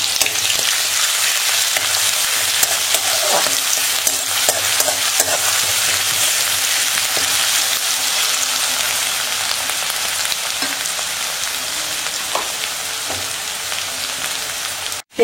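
Crushed onions and curry leaves fry in hot coconut oil with a loud, dense, continuous sizzle and occasional stirring scrapes, heard alone without talk.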